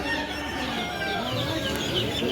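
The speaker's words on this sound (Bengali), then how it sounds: "এখন এখান থেকে প্রথমে হাঁস মুরগিগুলো দেখে যাই" Chickens and ducks at a pet and poultry market make dense, overlapping clucking and squawking in a steady, loud din, with no clear pauses.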